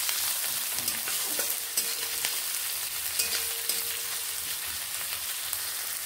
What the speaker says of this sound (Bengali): এবার ভালোভাবে এগুলোকে আমি ভেজে নেব এইভাবে